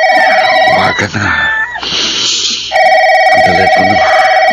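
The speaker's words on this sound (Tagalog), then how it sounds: "Ang telepono." A telephone bell rings loudly in steady repeated bursts indoors, cutting off briefly in the middle before resuming, with no talk over it.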